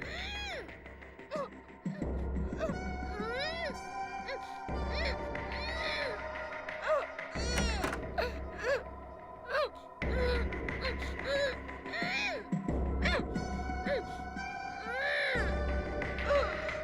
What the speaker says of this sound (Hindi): रोने की आवाज इस कमरे से आ रही है।